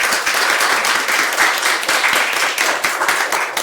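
Steady applause from an audience at a book launch evening, dense continuous clapping close and loud for the full few seconds, with no talk over it.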